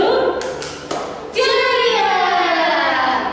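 At a children's Sunday school gathering, a few sharp, spaced hand claps lead into a rhythmic clapping chant sung by voices, carried on loudly and close to the end.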